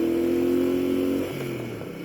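A 1999 Moto Guzzi California V11 EV motorcycle engine hums steadily, then its pitch shifts as it accelerates, heard from onboard with wind noise.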